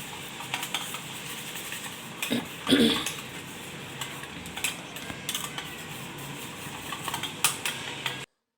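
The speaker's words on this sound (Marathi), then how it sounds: "आता हे आपल्याला छान असं मिक्स करून घ्यायचं आहे" A spoon stirs a cornflour mixture in a pot or bowl to break up lumps while making a grape sweet, giving irregular scraping and clinking strokes, close and moderately loud, with a sharper clatter partway through.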